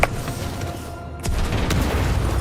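A frag grenade explodes in a video game as a speed boost, heard as a low rumbling boom with a sustained roar that swells after a brief dip, loud and near.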